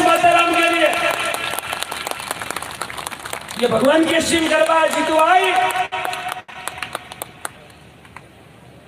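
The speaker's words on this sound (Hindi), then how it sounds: "एक बार पूरे तालियों से स्वागत जीता दो मैं उनकी तालियां बजाया" A gathering applauds during a devotional talk given in honour of a cow-mother offering, steady clapping with shouted voices and someone speaking over it, the clapping thinning out toward the end.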